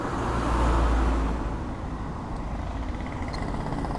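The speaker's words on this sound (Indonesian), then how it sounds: "terlihat arus kendaraan roda 4 ya," Four-wheeled vehicles flow past on an alternative road near a road repair project in Bayat, a steady broadband traffic rumble with a louder swell early on as a car passes close, then a continuous roadway hum.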